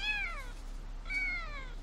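A cat found outside a front door meows twice, each call close and clear with a rising then falling pitch, separated by a short pause against faint background hum.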